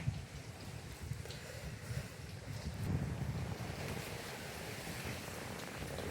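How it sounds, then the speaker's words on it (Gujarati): Storm wind blowing outdoors during heavy rain, a continuous low roaring rush with gusty buffeting, moderately faint and steady throughout, no one speaking. "જો વાવાઝોડું"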